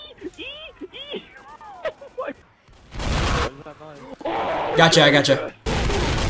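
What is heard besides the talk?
Gatling gun firing in video game Left 4 Dead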